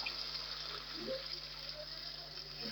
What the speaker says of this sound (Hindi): जितनी आपको ग्रेवी चाहिए आपने इसमें उतना पानी शामिल कर लेना है